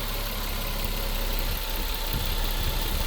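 A Toyota Soarer SC300 with a turbocharged 2JZ-GE engine and W58 five-speed idles steadily, a loud, smooth, even drone close by with no voices.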